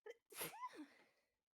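Two human sneezes at a tabletop role-playing game session, a short one followed by a louder, fuller one, close to the microphone with a brief trailing breath and no talking.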